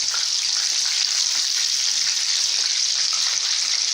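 Breaded KFC-style chicken pieces coated in bread crumbs sizzle and crackle steadily in hot oil in a pan, a close, continuous bright frying hiss with no talking.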